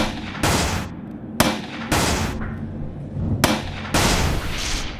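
Four loud gunshots ring out in the video game Dark Dreams, each a heavy crack followed by a brief rumbling tail, fired at a steady pace roughly a second apart.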